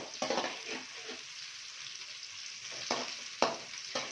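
Green chillies frying in a pan while a chicken majestic dish is cooked, a steady close sizzle with a few louder crackling bursts from stirring.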